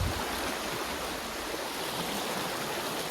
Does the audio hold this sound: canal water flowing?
yes